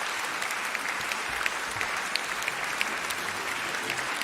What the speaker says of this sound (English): And I think we'll applaud you both again.